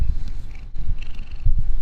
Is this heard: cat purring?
yes